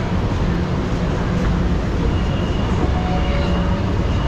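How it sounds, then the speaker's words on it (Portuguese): Metro train at Pinheiros station in São Paulo, a steady broadband rumble of rail noise with faint tonal whines, continuous and fairly loud throughout. "O trem tá parado ali."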